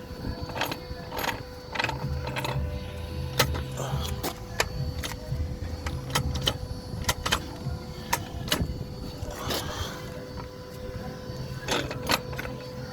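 A Peugeot 207 5-speed gearbox with no drive, turning in reverse, giving a steady mechanical whir with a low hum, light rattling and repeated sharp clicks and knocks at close range.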